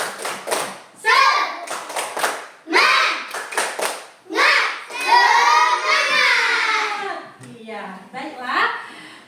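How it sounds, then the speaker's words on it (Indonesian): Schoolchildren in a classroom perform a rhythmic spirit clap, quick patterned bursts of hand claps mixed with shouted chanting voices, loud and close. "Kita tepuk semangat agar pembelajaran kita hari ini semangat."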